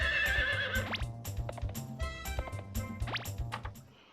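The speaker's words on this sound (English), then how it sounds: "Gallop our horse." A horse in the Harvest Moon 64 video game gives a loud, shrill neigh, then gallops with a quick, steady clip-clop of hooves that fades toward the end.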